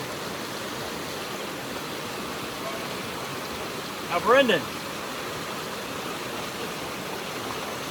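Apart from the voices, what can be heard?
creek water flowing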